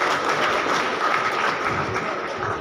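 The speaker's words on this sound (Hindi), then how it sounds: "तालियां थोड़ी कम बजी।" Dense, steady applause from a large crowd at an International Yoga Day gathering at Rajwada, a continuous wash of clapping with no pauses, fairly loud throughout.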